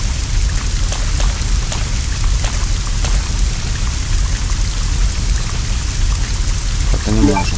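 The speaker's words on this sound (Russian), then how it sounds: "Вроде бы на улице идет дождь." Rain pours steadily outdoors in the survival horror game Resident Evil Code Veronica X, a loud dense hiss with scattered drops and a faint rumble, continuing unbroken throughout.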